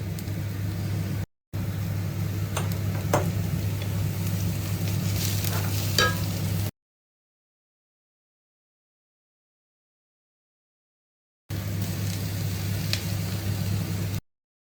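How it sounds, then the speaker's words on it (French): Garlic sizzles in a stainless steel wok with steady frying hiss and occasional stirring clicks, continuous for several seconds, then a break and a short further stretch of sizzling. "Le wok en inox. Je vais rajouter de l'ail."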